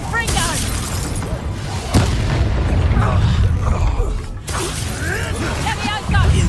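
Confringo spell blasts in Hogwarts Legacy: loud, booming fiery explosions and crackling bursts over a dense battle din that never lets up, with voices throughout.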